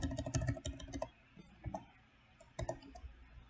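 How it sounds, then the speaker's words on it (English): Fingers type on a computer keyboard in quick close bursts of clicking keystrokes, broken by a short pause, with no voice over them. "Always struggle typing alpha for some reason."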